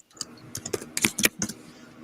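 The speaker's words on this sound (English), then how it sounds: "And is typing away." Rapid, uneven keystrokes on a computer keyboard clatter close by in short clustered bursts, with no voices over them.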